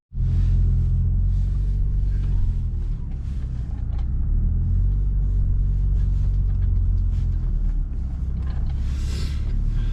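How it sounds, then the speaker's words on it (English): Low, steady engine rumble from a Toyota RAV4 in four-wheel drive pushing through snow, heard from inside the cabin with a continuous drone and slight shifts in load. "RAV4's making light work of this snow."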